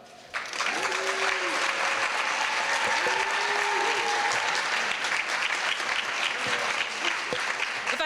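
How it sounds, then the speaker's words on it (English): Loud, sustained applause from a large crowd at a Hispanic Heritage Month celebration, steady throughout with scattered cheers and voices mixed in. "one more grand round of applause"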